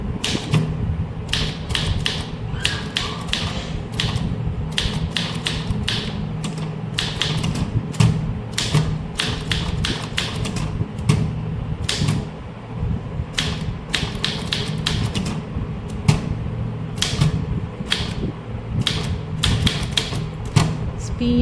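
A typewriter clatters steadily as a circular letter is typed for a junior English typing lesson, with sharp key strikes in an even rhythm over a low background hum.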